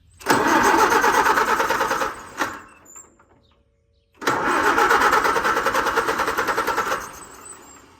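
An old tractor engine cranks and fires up after the key is turned, runs loudly for about two seconds, then cuts out and falls quiet before cranking and running again for several seconds.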